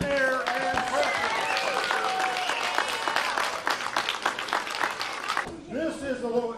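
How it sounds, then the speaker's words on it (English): Audience applause at a holiday science show, a steady wash of clapping running for several seconds with voices and other sounds mixed in, fading out near the end. "let's give a round of applause for air and pressure."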